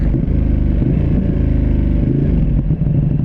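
Ducati Panigale V2 motorcycle riding on the highway, a loud, close, throbbing engine drone with slight pitch shifts and wind rumble, steady throughout.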